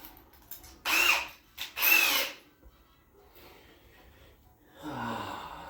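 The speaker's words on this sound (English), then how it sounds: "Drill bit." A power drill fitted with a drill bit whirs in two short, loud bursts about a second apart, then gives way to quieter shuffling and a softer trailing noise.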